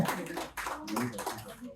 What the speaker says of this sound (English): Give a round of applause for Sunflower.